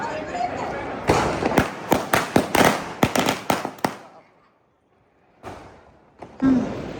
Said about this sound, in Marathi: फायनली फटाके वाजून झाले